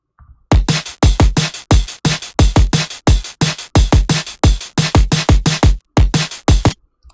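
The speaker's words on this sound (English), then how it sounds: "all the drums together sound like this" Full drum track from an FL Studio project playing back: punchy repeated kick and snare hits in a steady driving pattern with tight hats, loud and close, with a brief gap before the last bar.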